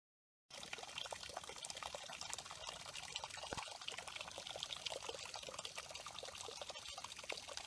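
Spring water trickles and splashes steadily, a continuous bubbling pour at close range with no voices.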